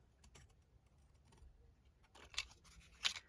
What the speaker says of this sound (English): And then let's just trim across the top.